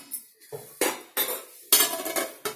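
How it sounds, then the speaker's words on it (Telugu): A lid set on a pot of Kashmiri chicken biryani: several sharp metallic clanks and rattles in quick succession, close and loud against near silence. "ఇప్పుడు మనం ఇది మూత పెట్టేసుకుందాం"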